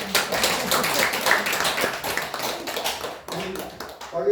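Church congregation clapping during a Sunday service, a moderate scattered round of hand claps from the room that tapers off toward the end, with a little talk at the close.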